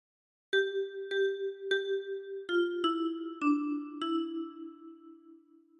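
Seven clear plucked metal tines ring out one after another on a 10-key kalimba, a bright bell-like phrase from Hark the Herald Angels Sing, each note sustaining and overlapping slightly as the pitch steps down near the end.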